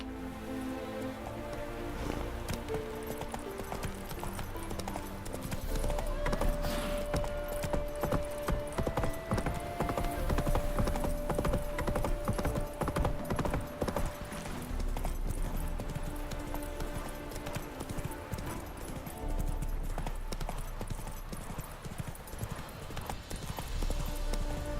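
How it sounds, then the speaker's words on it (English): Horse hooves clip-clopping in a video game, a steady trotting rhythm that runs throughout over music, with faint rain-like patter. "Whoa there, Roach"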